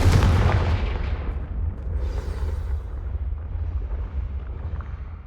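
A Confringo explosive spell cast in the video game Hogwarts Legacy bursts with a loud, booming blast at the start, then its rumbling roar decays into a sustained low crackle and a brief rising whoosh.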